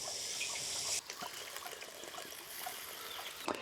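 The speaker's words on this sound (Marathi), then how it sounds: "मसाला जळू नये म्हणून पाणी घालतोय" Water poured into a pan of frying masala with Kashmiri red chili and turmeric: a brief bright hiss at the start gives way to a softer bubbling, trickling simmer with faint scattered pops.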